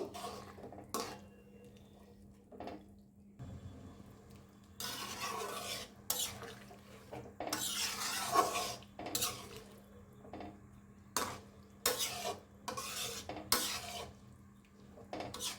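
Fried fish pieces go into a pot of fish curry with potato and Malabar spinach, followed by intermittent scraping and clinking of a spoon stirring against the pot, close and fairly quiet, with pauses between strokes.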